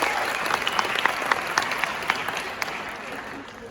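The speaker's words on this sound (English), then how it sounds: "I think that deserves a round of applause." An audience at a student council state convention breaks into sustained applause, a dense wash of many hands clapping with a few sharper claps standing out, steady and then slowly easing.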